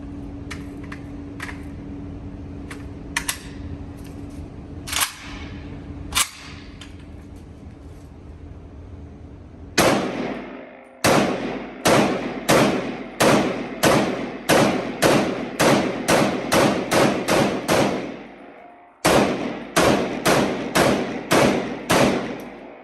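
A Century Arms VSKA AK-47 rifle fires a few scattered single shots, then rapid strings of sharp, loud reports with brief pauses between bursts, close up and with no talking.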